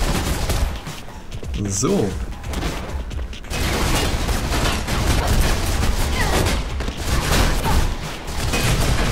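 Dense bursts of gunfire in the video game Mirror's Edge, loud and nearly continuous over several seconds, with someone briefly speaking over it.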